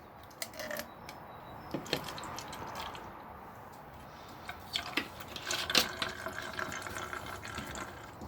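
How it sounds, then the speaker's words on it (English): Cold water is poured into a bottle for a Quattro Automotive maintenance car wash, a quiet, steady trickling fill with occasional splashes and faint clinks of the container, no talking. "Just cold water in this."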